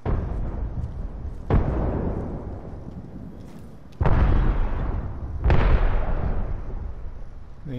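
Heavy gunfire in Apex Legends: three loud, sharp shots spaced a couple of seconds apart, each trailing into a long, booming decay over steady background game noise.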